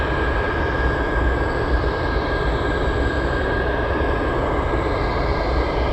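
A McDonnell Douglas MD-11 jet at Anchorage Airport on a foggy day, a steady loud broadband engine roar with a constant whine, heard alone and unbroken throughout.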